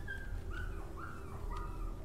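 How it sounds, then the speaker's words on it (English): A dog whimpers and yips in the game Rewind or Die, several short rising whines spaced out over a low steady background hum, with no talking. "There's a dog?"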